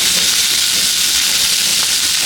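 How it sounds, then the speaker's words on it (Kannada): Oil going into a pan of frying onions gives a steady, loud hiss like steam, unbroken for about two seconds with no talking. "ಈಗ ಇದಕ್ಕೆ 1 ಸ್ಪೂನ್ ಎಣ್ಣೆ ಹಾಕೋತಾ ಇದ್ದೀನಿ"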